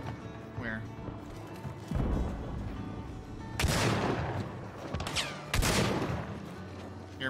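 Shotgun blasts in the game Hunt: Showdown, a few heavy booming shots spaced seconds apart, each with a long decaying tail, over a low ambient rumble with speech in between.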